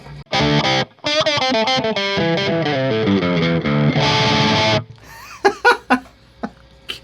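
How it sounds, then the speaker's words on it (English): A Glarry Burning Fire electric guitar played on the second pickup position through distortion, a loud run of sustained overdriven notes and chords, then a few short, sharp plucked stabs with pauses between them. "Let's go to the second position here and get some of that spanky goodness, I guess, through some distortion."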